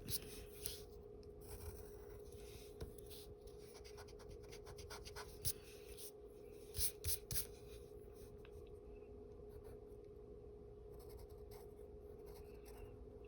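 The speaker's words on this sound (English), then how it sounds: "So what I'm going to do is I'm going to erase the heart line to make it look like the ribbon is covering the heart up in that one spot" Pencil eraser rubbing out a line on paper while drawing a ribbon over a heart, a steady soft scratchy scrubbing in short repeated strokes, close and quiet over a constant low hum.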